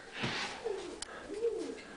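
Racing pigeons coo softly inside a loft, two low rolling calls over faint room noise and a brief rustle, heard at moderate distance with no speech.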